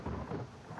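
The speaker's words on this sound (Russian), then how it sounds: "дождик" Steady rain hisses and rumbles in the survival video game The Forest, forming a brief, broad wash of falling water with a low thunder-like roll.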